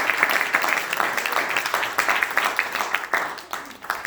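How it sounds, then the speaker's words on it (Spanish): A church congregation applauds the Lord in a moderate burst of clapping. Voices mingle with the claps, which thin out toward the end. "¿Cuántos le dan un fuerte aplauso al Señor por su sangre preciosa?"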